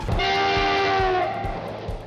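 A train horn sound effect opens a fast news roundup, one long sustained blast over rhythmic rail clatter that fills the whole moment, loud and with no one talking.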